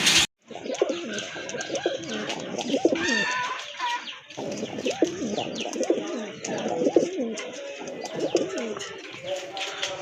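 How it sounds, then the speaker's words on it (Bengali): A pair of pigeons coo steadily and close by, repeated low throaty warbling calls overlapping one another throughout, with a brief sharp noise at the very start. "দেখতে পাচ্ছেন চমৎকার এক জোড়া কবুতর"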